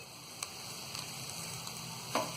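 Potatoes and softened tomatoes sizzle and get stirred in a pan over a medium gas flame for a dry aloo sabzi, a quiet steady fry broken by a few soft scraping knocks of the spoon.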